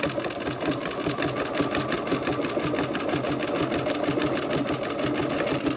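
A sewing machine stitches appliqué, its rapid, even needle chatter running continuously and close at a steady pace, with no voices.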